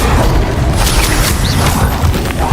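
An Incendio fire spell cast in the Hogwarts Legacy video game gives a loud, dense burst of fiery, booming noise. It fills the whole moment with crackling, rumbling energy and no voice over it.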